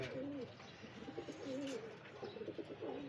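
Pigeons cooing in steady repeated guttural phrases close by, rolling one after another over a soft background hum, with no talk over them.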